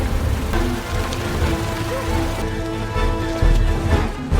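Steady rain falls in a dark outdoor setting, a continuous broadband hiss with scattered drops and a faint tonal hum underneath, no voices.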